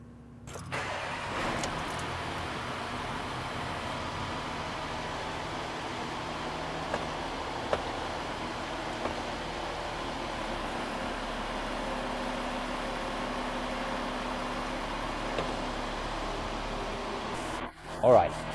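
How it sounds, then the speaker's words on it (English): Porsche engine with an 8-speed TR80-SD automatic gearbox held at a steady 2000 RPM during a transmission fluid fill, a constant even hum sustained for most of the stretch before stopping near the end. "you then rev the engine up to 2000 RPM and hold it there for about 60 seconds"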